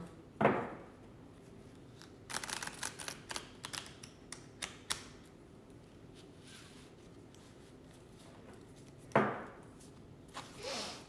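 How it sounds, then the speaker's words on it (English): A deck of cards is shuffled: two crisp riffle bursts at the start and near the end, with a run of quick flicks and taps between them, close and quiet in an otherwise still room. "Going to shuffle it once more."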